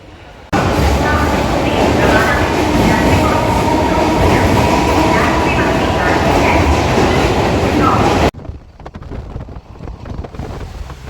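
Loud, steady interior rumble and rail clatter of the Haldibari Superfast train running from Kolkata toward Jalpaiguri, with wind noise, continuing for most of the clip before cutting to a quieter, lighter rolling sound near the end.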